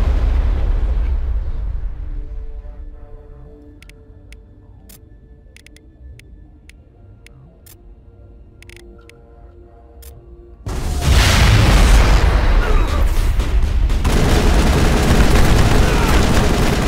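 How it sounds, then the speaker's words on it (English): A cryo-frozen enemy explodes in the Mass Effect game. Gunfire and rumble fade into a quiet stretch with sharp clicks, then a loud, sustained burst of blast noise breaks in near the end. "that's why he just froze solid and then exploded"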